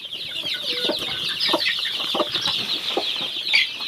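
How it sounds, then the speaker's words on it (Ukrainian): Dense, continuous high-pitched peeping from many young chicks, close and steady, with scattered sharper cheeps throughout and no voices. "Тут 51 курчатко."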